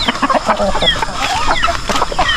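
Tethered free-range chickens on a farm clucking and squawking close by, short overlapping calls in a busy, continuous stream.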